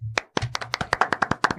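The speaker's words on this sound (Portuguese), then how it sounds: "Palmas." Short burst of hand clapping in a radio studio, a dozen or so sharp claps in quick uneven rhythm, close and clear, with a brief pause after the first clap.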